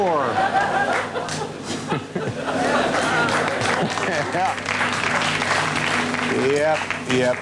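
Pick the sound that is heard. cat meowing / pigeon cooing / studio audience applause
studio audience applause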